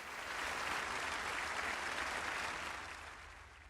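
A snooker crowd applauding after a frame with Ronnie O'Sullivan and Nigel Bond, a steady clatter of many hands that swells and then slowly tapers off, heard from the hall at moderate distance with no talk.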